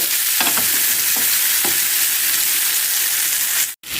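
Fish frying in a banana leaf over a medium flame, giving a steady, close, broadband sizzle with a few soft stirring knocks early on and a brief drop-out just before the end.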